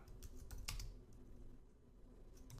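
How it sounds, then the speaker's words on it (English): A terminal command is typed on a computer keyboard: a few quick, faint keystrokes in a short irregular run, close but quiet against soft room noise. "So we'll type sudo"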